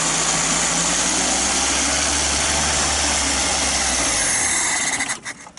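Carbureted VAZ-2109 engine with a fuel-starvation fault revving under load, a loud steady drone with a rising whine that drops off abruptly near the end, followed by faint clicks.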